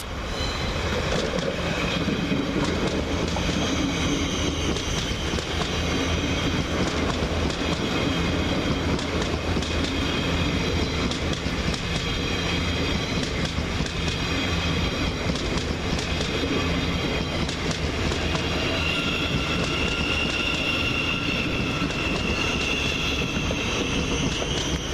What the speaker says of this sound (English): Next, Thameslink Terminator from Horsham, over on platform 2, sees the arrival of 700-128.